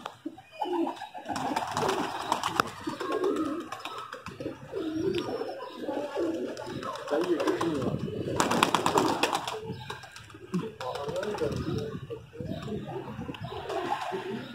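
Pigeons coo continuously near a trap cage, layered low rolling calls from several birds, with rustling and bursts of fluttering wings mixed in.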